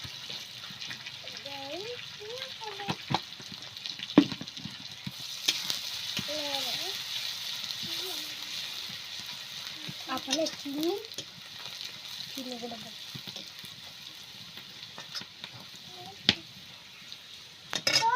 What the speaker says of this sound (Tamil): பூண்டு இடிச்சிட்டு போட்டுட்டு கொஞ்சம் ஃப்ரை பண்ணிவிட்டு சில்லி பவுட்ரு போட்டுருவாங்க